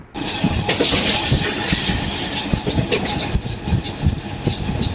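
Inside the nearly empty front coach of the Narasapur–Rajahmundry MEMU running at about 100 km/h, a loud, steady rumble carries dense clattering wheel beats throughout, with no voices.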